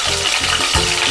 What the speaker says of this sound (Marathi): जिरे टाकते, जिरे कडकडले, कढीपत्ता टाकून घेते